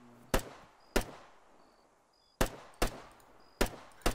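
Rifle fire in the military shooter Arma 3 arrives as six sharp, separate shots at uneven intervals, each cracking and then fading into a short echo, with faint electronic beeps in the quiet gaps.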